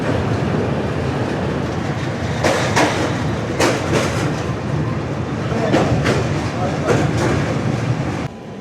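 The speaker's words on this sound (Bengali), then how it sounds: "জগন্নাথ এক্সপ্রেস এখন কোলাঘাট ব্রিজ অতিক্রম করে চলেছে" The Jagannath Express rolls across the Kolaghat rail bridge with a loud, continuous rumble and repeated clickety-clack wheel beats, close by and alone.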